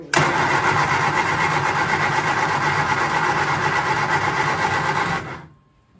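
A 1967 Triumph Spitfire Mk II engine cranks and catches, then runs steadily and loudly up close for about five seconds before cutting off, heard alone without voices.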